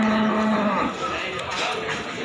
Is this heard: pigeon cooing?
no